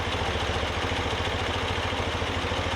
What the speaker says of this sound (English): We're idling right at 800 RPM. It just dances around a little bit.